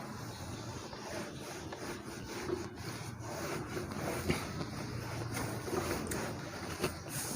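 A duster rubs chalk writing off a classroom board during a maths lesson, making a steady, close, continuous scraping rub with a few slightly stronger strokes and no talking.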